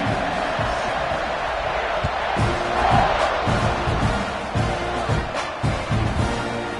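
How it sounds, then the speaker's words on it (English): A football stadium crowd roars and cheers at the kickoff after a touchdown, a dense steady wash of many voices with rising swells and thumps, loud and continuous throughout. "They're set to kick it off, and this crowd now ready to get behind them."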